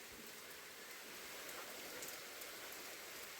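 Steady rain falling outdoors during a prolonged downpour, a soft, even hiss of drops on surfaces, fairly faint and continuous with no voices.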